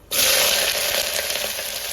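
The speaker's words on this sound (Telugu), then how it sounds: "కొంచెం ఫ్రై అయిన తర్వాత కట్ చేసి పెట్టుకున్న ఉల్లిపాయలు పచ్చిమిర్చి కూడా వేసుకొని ఫ్రై చేసుకోవాలి" Chopped onions and green chillies frying in a hot pan for a coconut milk rice dish, a sudden loud sizzle that starts at once and holds steady with crackling spatter.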